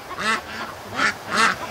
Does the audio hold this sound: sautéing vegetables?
no